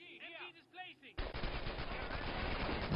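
Machine gun fire in Company of Heroes Online erupts after a brief warbling tone, a loud sustained rattle of rapid shots that runs continuously to the end.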